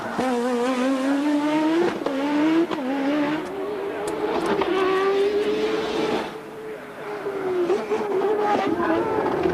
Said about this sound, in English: Hard on the brakes at the last hairpin and then on to full power down the pit straight.